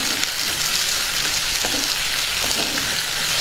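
Onions and tomato pieces fry in a pan for tomato curry, giving a continuous, close sizzle with soft crackles and no voices.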